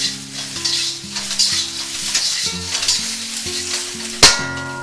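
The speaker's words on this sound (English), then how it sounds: "You just want to sprinkle it around as you're stirring the shrimp." Jumbo shrimp stir-frying in a wok with a sprinkled salt and pepper mixture, a loud close sizzle under rhythmic spatula stirs and scrapes, with one sharp metallic clank near the end.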